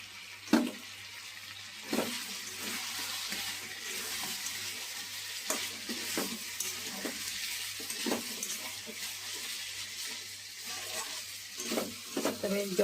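Spices hit hot oil in a pan with tomato and chicken, giving a steady close sizzle and frying hiss with occasional stirring clicks and scrapes.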